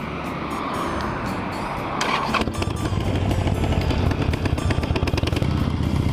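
A Harley-Davidson Sportster 48 motorcycle pulls away at Miyagase Lake, its engine swelling from a steady idle into a louder, rougher drive around two seconds in and holding near and strong to the end.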